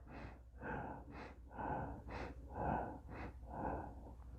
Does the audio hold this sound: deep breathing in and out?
yes